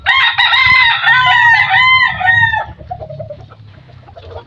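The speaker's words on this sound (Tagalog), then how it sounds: "Sunod-sunod yung mga inahin." Rooster crowing loudly and close in a long drawn-out call among hens clucking at feeding time, followed by softer scattered clucks and low farmyard murmur.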